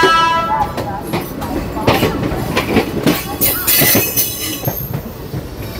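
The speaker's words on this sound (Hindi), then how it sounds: "ये है इसका लोको" The Shri Ganganagar–Rishikesh Express, train 14712, rolls along the rails with loud, steady rumble, rhythmic clickety-clack and high squealing wheels, recorded close by with faint voices underneath.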